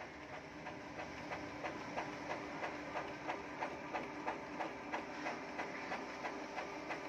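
A Canon G-series inkjet printer runs through its shutdown cycle with a steady mechanical whir and regular soft clicking pulses, close and fairly quiet, with no speech over it.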